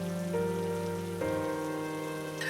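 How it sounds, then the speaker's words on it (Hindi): Rain falling during a rainy spell, a soft, steady patter that stays even and fairly faint under sustained tonal background music. "पता नहीं ये बारिश कब रुकेगी"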